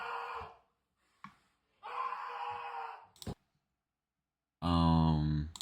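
Screaming sound effect played back from a game's sound file, heard as several bursts of vocal wailing and screams with silent gaps between them, the last burst loud and sustained.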